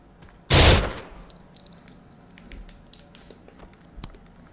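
One loud, sharp video game gunshot blast in a zombie shooter rings out, followed by a quiet stretch of faint clicks and small taps.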